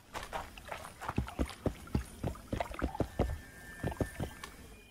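Oars working a leaky rowboat in The Witcher 2, a steady series of close knocking strokes and splashy water thuds about twice a second, with a faint background tone.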